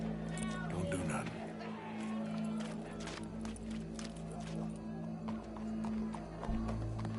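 Horse hooves in Red Dead Redemption, a steady clip-clop of riding that runs under in-game voices talking and ambient sound.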